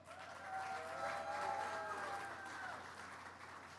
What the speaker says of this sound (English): I'd like to ask for a round of applause for all the people who worked on that project.